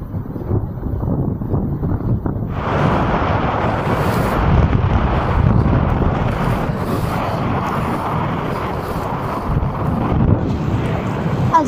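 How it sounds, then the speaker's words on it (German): Wind at sea gusting up to 20 knots aboard a sailboat off Greece, roaring into the microphone as a loud, sustained broadband rush that thickens after a few seconds, with no talking. "es hat auch hier draußen Wind, bis 20 Knoten"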